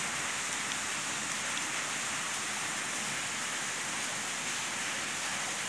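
Water pours and runs down rocks inside a cave near Ilicínea in southern Minas Gerais, where a waterfall flows underground: a loud, constant, rain-like rush that fills the space without pause.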